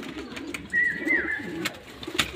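Domestic pigeons kept at a home in late afternoon, giving a soft, low cooing close by, with a faint higher whistle-like tone and small fluttering or handling noises around it.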